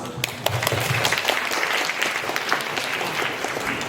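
An audience at a career conference welcomes a professional panel with warm applause, a dense patter of many hands with sharp individual claps standing out near the microphone.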